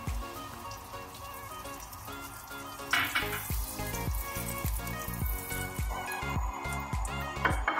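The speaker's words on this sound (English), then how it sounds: "I'm going to add to it my ghee." Ghee sizzles in a hot pan for an Egyptian-style beef stew, a steady crackling fry heard close and fairly loud, with a low rhythmic thumping pattern running underneath and a brighter burst of spatter partway through.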